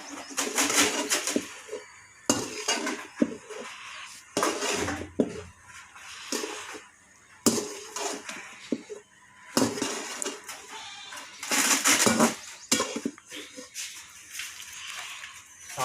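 Vegetarian ingredients being stirred and mixed in a pan, bursts of scraping and clattering from a spatula against the metal pan, broken up by quieter pauses, close and fairly loud.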